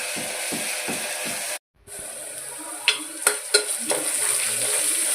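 A spoonful of paste fries in a pan with a steady close sizzle, briefly cut off, then returning with a few sharp clicks and scrapes of stirring over the continuous hiss.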